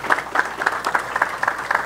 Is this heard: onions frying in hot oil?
no